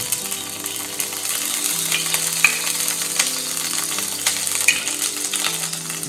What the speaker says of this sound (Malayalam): അപ്പം ഇനി നമുക്കിതിൽ കുറച്ച് നെയ്യും കൂടെ ആഡ് ചെയ്ത് കൊടുക്കാം